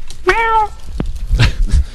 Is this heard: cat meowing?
yes